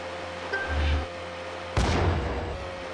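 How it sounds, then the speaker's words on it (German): A video game explosion in GTA Chinatown Wars bursts with a sudden heavy boom and rumbling decay, preceded by a softer low thud, loud and close with no talk. "Diese Explosion jetzt."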